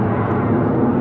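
Steady broadband jet roar from an American Airlines Boeing 737-800, built in 2015, at Phoenix Sky Harbor, loud and continuous with no talk over it.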